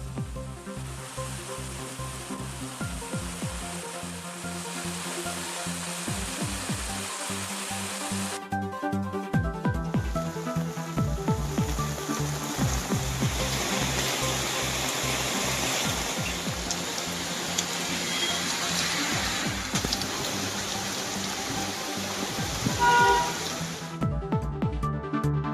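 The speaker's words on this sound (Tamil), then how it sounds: "ஈரோடு சத்தியமங்கலம் கோவை அன்னூர் பகுதிகளை குளிர்வித்த மழை" Steady, heavy rainfall pours down in Erode, Sathyamangalam, Coimbatore and Annur, a constant broadband wash that stays loud and unbroken throughout, with no voices.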